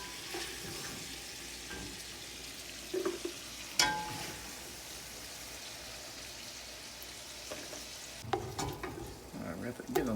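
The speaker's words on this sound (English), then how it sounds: "this sausage has been cooking for about 5 to 6 minutes" Smoked andouille sausage sizzles steadily in rendered fat in a pan, a soft continuous crackle with occasional stirring scrapes and clinks, moderately close and without speech.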